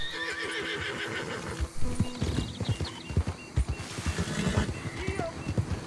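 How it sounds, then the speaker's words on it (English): Horse hooves clip-clop in Red Dead Redemption II, uneven steps under game music and ambience, with a horse whinny in the mix and no speech during the steps. "Is that a horse?"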